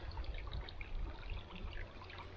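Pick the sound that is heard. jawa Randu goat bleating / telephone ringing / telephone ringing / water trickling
water trickling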